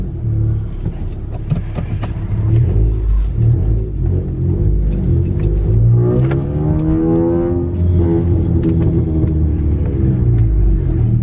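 A 2018 tenth-generation Honda Accord with a custom cold air intake is driven, its engine rumbling steadily with several rises and falls as it accelerates and shifts, close and loud, with no talking.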